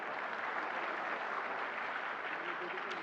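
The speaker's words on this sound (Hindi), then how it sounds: "जोरदार तालियां" Steady, dense applause from a large audience at a national handicraft award ceremony, faint and even throughout, with no break.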